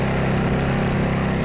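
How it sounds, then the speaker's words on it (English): A cold generator engine drones loud and close without a break, a dense rough mechanical roar that holds steady at high revs throughout. "Generator might be a little cold."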